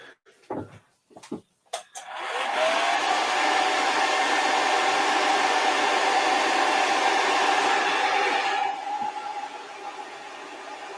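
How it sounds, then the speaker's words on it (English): After a few short clicks and knocks, a hair dryer switches on and blows with a steady loud whooshing roar, then drops to a lower setting. "I'll quickly hit that with a hairdryer."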